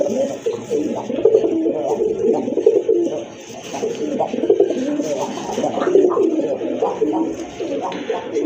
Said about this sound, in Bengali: মাশাআল্লাহ অনেক বড় সাইজের এক জোড়া খাকি কবুতর